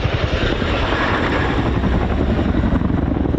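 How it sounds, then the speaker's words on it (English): Loud, continuous rotor thrum of a Chinook twin-rotor helicopter pulling up to vertical during an airshow display at RAF Fairford, heavy low-frequency chopping throughout with no other sounds. "The Chinook pulls up to vertical to begin the 2023 display."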